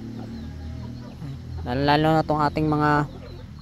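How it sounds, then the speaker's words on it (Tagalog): Free-range chickens cluck repeatedly at close range in a few short bursts, while someone talks in the background. "pinakawalan natin mga idol yung ating mga alagang manok"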